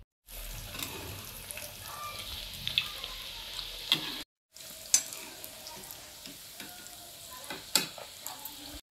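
Mustard-leaf pakoras sizzle and fry steadily in hot oil, a continuous crackling hiss with occasional bubbling pops, briefly cut off midway before resuming.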